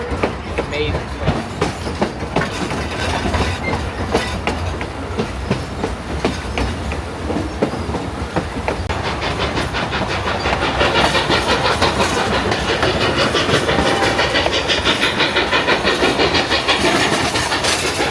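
A Durango & Silverton narrow gauge steam train chugging steadily with dense, rapid rhythmic puffs and rumble, loud and close, with wheel clatter building toward the end.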